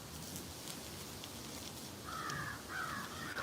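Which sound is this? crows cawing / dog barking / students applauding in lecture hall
crows cawing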